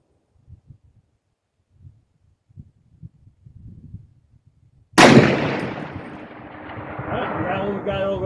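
A SCAR 17 rifle fires at steel targets 550 yards away, a single sharp, loud shot followed by a long rumbling decay. Quiet, scattered speech-like murmurs come before it.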